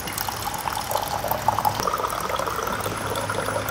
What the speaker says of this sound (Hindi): अब इसके अंदर हल्का फुल्का सा नीम गर्म पानी डालता हूँ।